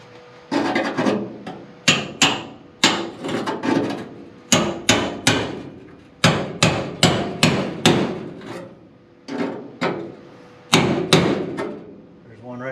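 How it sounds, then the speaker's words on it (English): A screwdriver pries and strikes at a stuck old door hinge on a 1941 Lincoln Zephyr, giving sharp metallic clanks and scrapes in irregular bursts, close and fairly loud. "I'm going to start prying on it with a screwdriver."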